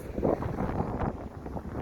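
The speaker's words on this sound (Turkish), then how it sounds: "rüzgar esiyor. Ağaçlardan ve sesten de anlayabilirsiniz." Wind gusts on a hilltop buffet the microphone in a low, rumbling rush, steady and close, with no other sounds standing out.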